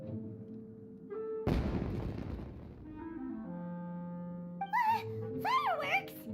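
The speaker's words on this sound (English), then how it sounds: "Was that an explosion? It sounded like fireworks." Fireworks going off in the video game Genshin Impact: one sudden loud boom followed by a decaying crackling rumble over sustained musical tones, then brief high character vocal sounds near the end.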